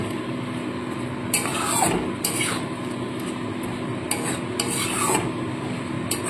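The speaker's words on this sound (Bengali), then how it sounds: "এবার ভালো করে মশলাটা কষিয়ে নেব।" Spice paste and a splash of water being stirred and sautéed in a pan, with repeated scraping, rasping strokes and a soft sizzle running underneath, close and steady.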